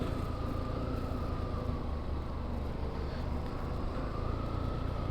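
A vehicle engine drones steadily under strain climbing a steep road, a low continuous rumble with a faint rising whine, no voices.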